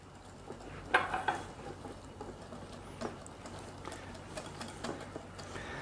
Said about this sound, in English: I'm going to add that to my mixture, and I'm going to stir that all around